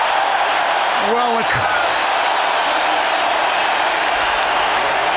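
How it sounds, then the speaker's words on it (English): A loud, dense roar of a large stadium crowd cheering continuously at a Wallabies vs All Blacks rugby match, with a brief whistle-like tone rising near the start. "the crowd say it all. There's so much noise here."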